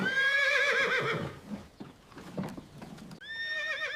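A horse whinnies loudly with a long wavering cry, followed by a muffled clatter of hooves and then a second shorter neigh, a sound effect in a Western storytelling setting.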